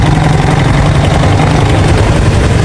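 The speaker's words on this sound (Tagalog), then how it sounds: "Tapos makina, ang ingay." A faulty motorcycle engine running loud and rough up close, a dense continuous mechanical roar with a low throbbing idle underneath, no voices.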